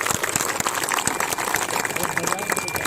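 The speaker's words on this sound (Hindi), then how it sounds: "जोर की तालियों से उनका स्वागत करें" A crowd of farmers at a sit-in protest at the Greater Noida authority gate bursts into loud, dense applause that stays close and continuous throughout, with scattered voices mixed in.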